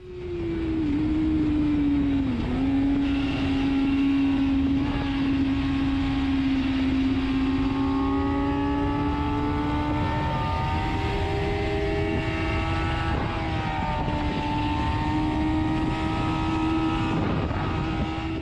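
A motorcycle on a race track, heard from a GoPro Hero 7 Black mounted on the fuel tank, holds a loud sustained engine drone that climbs and shifts in pitch across gear changes, with heavy wind rush throughout.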